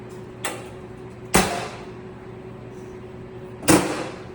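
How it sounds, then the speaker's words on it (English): A commercial kitchen steamer door slams shut several times: a light knock, then two sharp, loud metallic bangs a couple of seconds apart over a steady appliance hum, with no talking. "Doors designed just to slam like that."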